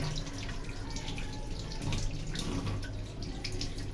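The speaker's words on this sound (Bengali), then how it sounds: "এই যে মাছ ধুচ্ছি মাছের মাথাটা প্রথমে আগে ধুয়ে নিচ্ছি ভালো করে" Fish being washed under a running tap, water flowing steadily and splashing in a sink throughout, with no talking.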